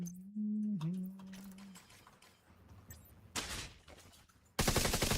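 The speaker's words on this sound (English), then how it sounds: "Goddamn turrets." Enemy turret fire in The Division 2, heard as brief scattered shots early, then a loud burst of rapid fire midway and a harsher sustained volley at the end, mixed with electronic game tones.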